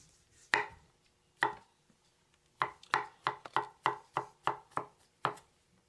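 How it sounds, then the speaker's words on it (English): A knife rough-chopping mushrooms on a board for a pot roast, with a few spaced cuts that then settle into a steady run of about ten crisp, close chops in a quiet room. "Very rough chop on these."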